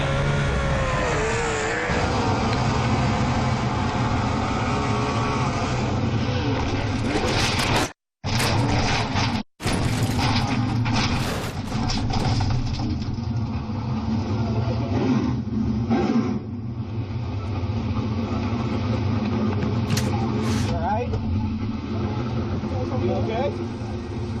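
Sprint car engines idle and rev in the staging area before a heat race at Knoxville Raceway, with loud, continuous revving and some engines blipping repeatedly as a commentator talks over the noise.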